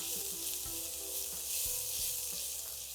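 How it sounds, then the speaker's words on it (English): A paste of green chilies, garlic and ginger sizzles and fries steadily in hot oil in a pan, a continuous close crackle with light stirring, for a paratha filling made with mooli leaves. "Saute these ingredients for a few seconds."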